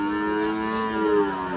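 A crossbred heifer calf at a cattle market gives one long, drawn-out moo, loud and close, sustained for the whole moment with no talking over it.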